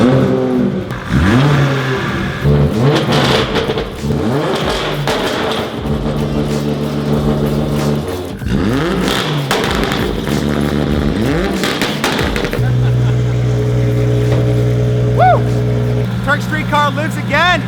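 A car engine, freshly fitted with a new ACT clutch and flywheel, revs up and down in repeated loud surges, then settles into a steady idle drone, recorded close.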